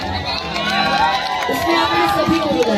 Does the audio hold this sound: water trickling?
no